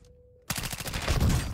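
Call of Duty gunfire in single-fire mode: loud, rapid-sounding shots burst in after a near-silent half second and continue densely to the end amid game noise.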